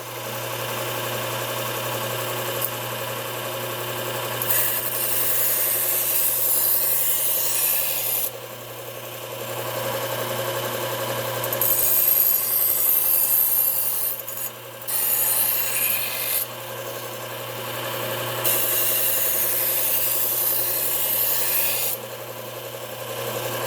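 A regular chef's knife is drawn in repeated long strokes across a sharpening stone, a steady close rasping scrape that pauses briefly between passes over a low constant background hum.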